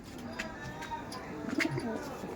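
Pigeon of a Chennai breed line with brown eyes and a golden eye ring cooing outdoors in sunlight, soft low coos repeating near, with faint chirps and a murmur of background voices.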